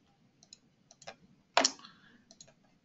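A computer mouse clicks in a quiet room: a few light, close clicks, then one sharper, louder click followed by a couple of softer taps.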